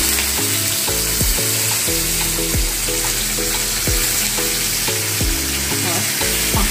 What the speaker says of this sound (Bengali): এইবার এতে আমি একটা শুকনো লঙ্কা ফোড়ন দিচ্ছি, আর দিচ্ছি একটু কারি পাতা